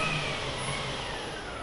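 A UAZ Bukhanka van engine running steadily as the vehicle starts to drive forward, a close, continuous broadband engine drone with no talk.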